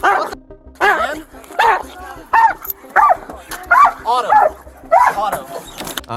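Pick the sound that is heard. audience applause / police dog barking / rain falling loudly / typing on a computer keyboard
police dog barking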